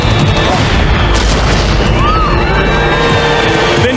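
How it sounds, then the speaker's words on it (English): A cache of fireworks at a market stall ignites and explodes in a chain reaction, giving dense, continuous loud booms, crackles and whistling bursts that overlap without pause, with voices faintly mixed into the roar. "A cache of fireworks has ignited, setting off a destructive chain reaction."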